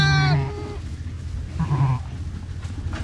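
Triplet newborn lambs bleating, one loud close bleat at the start followed by a softer, shorter bleat a moment later, with quiet barn shuffling between.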